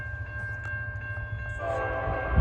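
Norfolk Southern mixed manifest freight train rolling past a grade crossing with its horn sounding steadily, the rumble and rail noise building louder toward the end as the cars draw near.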